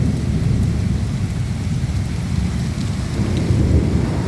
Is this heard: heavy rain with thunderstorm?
yes